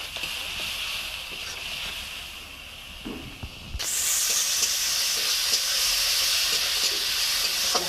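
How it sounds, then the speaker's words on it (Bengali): Masala frying in mustard oil for a Bengali fish dish, a steady close sizzle and hiss that jumps sharply louder partway through as it is stirred, with scraping strokes and no voices. "আমি একটু সর্ষের তেলেতে দিচ্ছি দিয়ে কষবো ভালো করে তেল ছাড়া পর্যন্ত আমি ভালো করে মশলাটা কষে নেবো"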